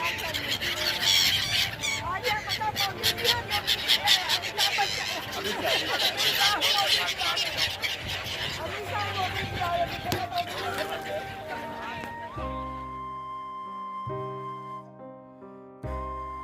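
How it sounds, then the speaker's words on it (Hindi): A dense flock of birds keeps up shrill, overlapping calls and squeals over the Yamuna river at Sangam in Prayagraj, with faint voices in the background. Near the end the calls give way to a steadier, tonal sound. "आइए इनका प्यारा कलरव सुनते हैं।"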